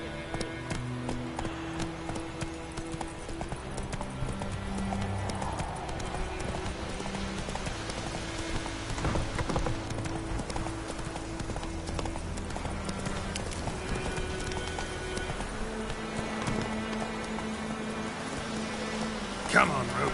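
Roach the horse galloping in The Witcher 3, with a rapid rhythmic clip-clop of hooves running continuously throughout, moderately close, under occasional game sounds and a brief spoken line.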